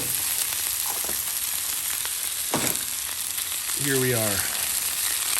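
Beef bacon sizzles steadily on a Blackstone griddle, a constant close crackling hiss throughout, with a brief spoken remark near the end.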